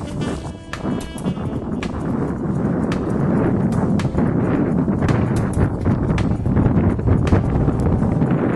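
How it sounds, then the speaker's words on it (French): Loud wind buffets the microphone in gusty, rumbling bursts, with scattered knocks and crackles throughout, atop a First World War blockhouse at Wittersdorf. "on doit sans doute entendre le vent"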